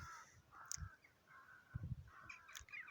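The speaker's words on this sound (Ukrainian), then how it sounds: "Літають ворони" Several crows caw at a distance in Birobidzhan, harsh calls repeating irregularly over faint background noise.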